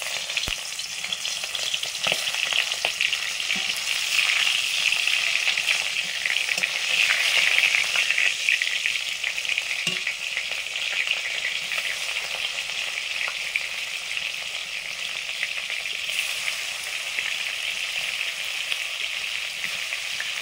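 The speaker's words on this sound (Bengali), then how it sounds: "মাছগুলো ভাজা হয়ে গেছে" Fish, snakehead and climbing perch, frying in a pan, with a steady bright sizzle holding for about twenty seconds and only a few faint clinks against it.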